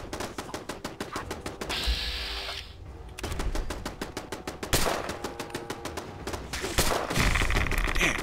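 Rapid bursts of automatic gunfire in a Fallout 4 firefight, loud and close, with repeated fast volleys broken by short pauses and sharper single shots.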